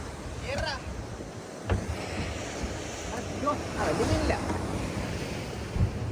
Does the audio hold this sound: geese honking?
no